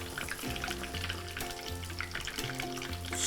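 Mutton pieces deep frying slowly in hot oil for a Kolhapuri mutton pickle, giving a steady, dense sizzle with soft bubbling and a few faint clinks, close and continuous throughout with no talking.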